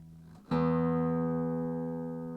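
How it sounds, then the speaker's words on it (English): A single low E guitar string plucked during tuning, ringing out steadily with a long sustaining decay, after a faint quieter note before it. "you just basically pluck the string and use the tuning peg to bring it up to pitch"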